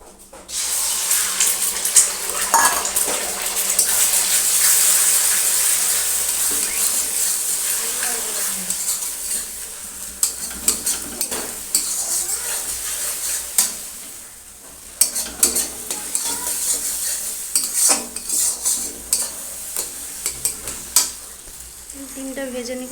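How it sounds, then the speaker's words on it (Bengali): An egg frying in oil in a kadai, a steady loud sizzle with scraping stir strokes and clinks that grows sharper and more broken toward the end, with faint running water in the background. "এখন ডিমটাকে ভেজে নেব।"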